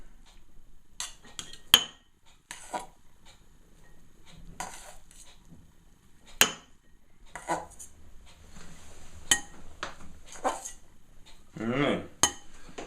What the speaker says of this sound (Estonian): panen tatrapuder taldriku peale.